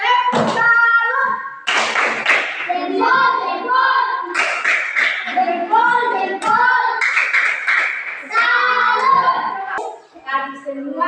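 Children in a classroom perform a tepuk salut clap salute, a dense run of rhythmic hand claps and slaps mixed with young voices, close and lively throughout.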